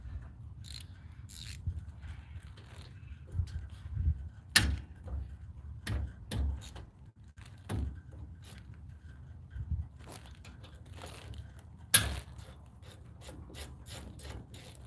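A ratchet with a 12-point 13 mm socket works a bolt loose on a 2017 Ford F150 during front brake work, giving clicking bursts and a few sharp cracks over low background rumble, with no talking.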